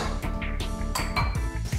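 Metal pans clink and knock against each other while seafood is being prepared, a quick series of close, bright clanks over a constant background hum.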